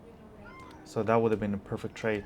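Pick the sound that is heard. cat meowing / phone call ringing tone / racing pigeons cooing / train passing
cat meowing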